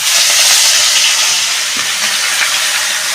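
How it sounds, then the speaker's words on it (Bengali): Pieces of rohu fish fry in hot oil in a kadai, producing a loud, dense, continuous hiss close at hand that barely varies over the few seconds. "এবার আমি মাছগুলো ভেজে নেব"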